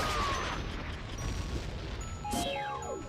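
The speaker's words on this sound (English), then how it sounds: "it's such a meaty sound when I use the hammer. I think it's the explosion sound." A heavy explosion effect from the hammer in a PC Ocarina of Time and Majora's Mask combo randomizer: a dense, booming crash of game audio, with a second burst and falling synth tones near the end.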